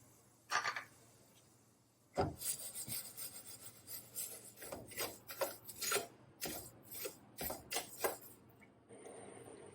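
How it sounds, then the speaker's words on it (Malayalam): A utensil scrapes and rasps against a pan as half a cup of sugar is stirred while it melts and caramelizes, in quiet, irregular strokes with brief pauses and no talk. "ഇതൊന്ന് ഉരുകി വരുമ്പോൾ ഒന്ന് ഇടയ്ക്ക് ഇളക്കി കൊടുക്കാം"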